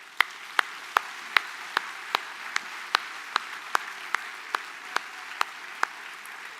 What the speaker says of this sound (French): d'applaudir les agents de la ville.